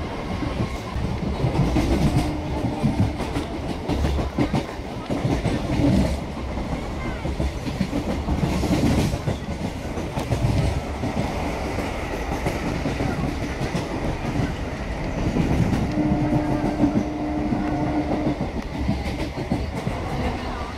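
An old ICF passenger coach rolls along the rails, swaying and rattling with loud continuous rumbling and rhythmic clickety-clack from the wheels, heard from inside the carriage for about twenty seconds.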